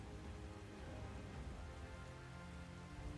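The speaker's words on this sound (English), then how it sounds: "let's get rid of the rain" Rain in the game ARK: Survival Ascended, a steady dense patter of falling drops, constant and even throughout, fairly quiet, with no voices.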